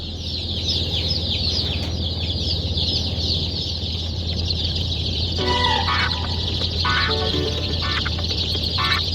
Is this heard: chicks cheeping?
yes